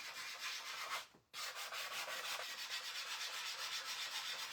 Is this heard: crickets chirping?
no